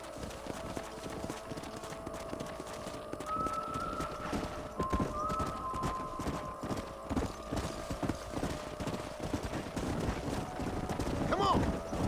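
Horses clip-clopping in the Western video game Red Dead Redemption, steady hoofbeats running throughout with wind and a brief whinny near the end.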